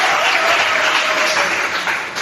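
A church congregation applauding to acclaim the Lord, producing a dense, loud, sustained burst of clapping from many hands that fills the room and carries no speech.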